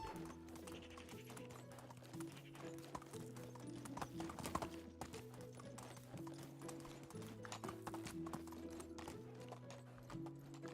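Horse hooves clip-clop steadily at a trot in the medieval survival game Medieval Dynasty, a continuous rhythmic clatter over the game's background music, with a short whinny.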